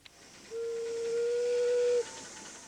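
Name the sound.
miniature steam train whistle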